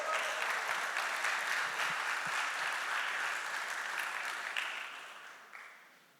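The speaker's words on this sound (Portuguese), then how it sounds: "Aplauda o Senhor, aplauda o Senhor." A church congregation applauds in a steady, dense wash of clapping that fills the room, holding level before gradually thinning and fading toward the end.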